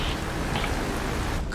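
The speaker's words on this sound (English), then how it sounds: "There's good rain coming down." Steady rain pours down around a small aircraft flying near a thunderstorm, a dense, even hiss that stays constant with no voices.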